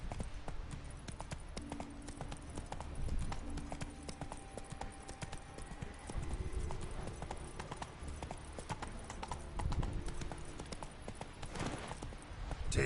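Geralt's horse Roach gallops in The Witcher 3 video game, with steady rhythmic hoofbeats running close and continuous throughout and a faint background score beneath.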